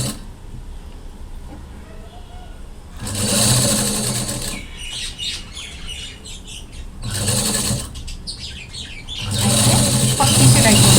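A sewing machine runs stitches along blouse piping in three loud whirring bursts, with quieter pauses of fabric handling between them.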